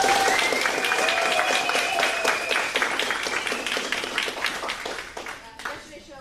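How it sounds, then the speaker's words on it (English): A theater audience at a high school production of Little Women breaks into sustained applause, a dense, loud wash of clapping mixed with a few voices and a faint tone that gradually thins and fades out over about six seconds. "Let's give our actors backstage a round of applause before they start the show."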